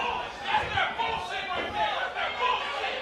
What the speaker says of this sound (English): And the crowd not loving it here